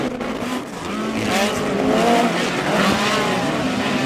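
Midget race cars of the POWRi West Midget League roar through a heat race at Airport Raceway, their engines whining and droning in a continuous, loud wash as the cars sweep past with some tire noise.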